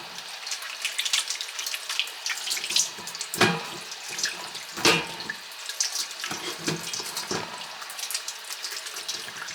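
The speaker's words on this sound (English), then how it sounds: "let's work on washing up these potatoes and getting them diced." Water runs steadily from a tap into a sink, with splashing and knocking as potatoes are rinsed under the stream, close and continuous.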